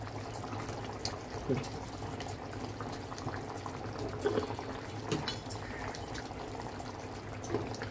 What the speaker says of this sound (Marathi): हे बघा मस्त चिकन आपलं शिजते